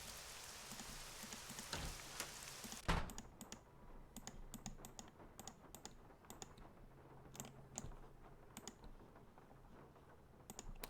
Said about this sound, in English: I love listening to the rain on the outside of this fake house.